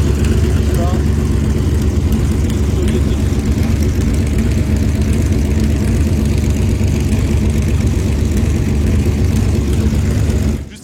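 Classic racing cars roar around the Charade circuit, including a 1971 Ferrari Daytona with a screaming V12, Porsches and BMW 3.0 CSLs, a loud sustained engine drone throughout, cutting off abruptly at the end.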